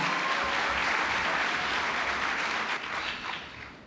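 Sustained applause fills a banquet hall as an audience at a Chamber of Commerce awards ceremony welcomes the MC, a dense steady clapping that tapers off slightly at the end.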